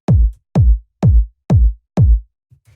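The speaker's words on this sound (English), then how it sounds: "this is just a really punchy 909 style kick" Punchy 909-style kick drum sample played alone: five loud, evenly spaced thumps about half a second apart, each a sharp attack into a deep, quickly decaying boom.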